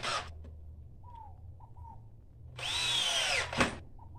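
Power drill driving screws into a tire being built into a living-room chair: a short whir at the start, a few faint squeaks, then a louder sustained whine of about a second that cuts off abruptly.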